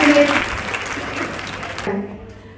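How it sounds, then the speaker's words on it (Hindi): An audience at a Women's Day union event in New Delhi applauds, a continuous round of clapping that tapers off, with a voice talking over it near the end. "पहले तो जोरदार तालियां बजाइए मेरे बड़े भाई, हमारे एनडीएमसी के मेंबर।"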